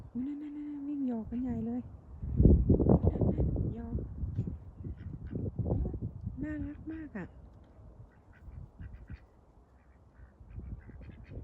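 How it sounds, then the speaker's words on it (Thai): Loud honking and quacking calls from geese, several in bursts, heard close by near a shed alongside people talking over them. "เดี๋ยวไปดูห่านวิ่งไล่นะ"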